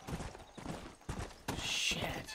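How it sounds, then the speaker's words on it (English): Horse hooves clip-clopping in a galloping rhythm in the Red Dead Redemption video game, a run of steady beats that builds toward the end, with a brief higher whinny-like sound near the close. "Drift around that corner on a horse"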